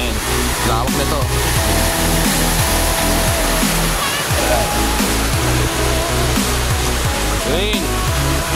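Roaring Kipot Falls, a waterfall, pours steadily as a continuous loud broadband rush over the full length of the sound, with people talking and calling out above it.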